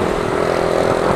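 Honda XRM motorcycle riding on the road, a loud, steady engine drone heard close for just over a second with no change in pitch.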